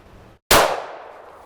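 A single sharp gunshot from a Taurus pistol loaded with zinc ammunition, loud and close, with a brief ringing decay afterward and no talk over it.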